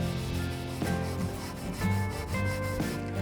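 Steady abrasive rubbing as rust is scrubbed off a scythe blade, continuous scratchy strokes with a few slight surges in rhythm, close and fairly loud, no voices.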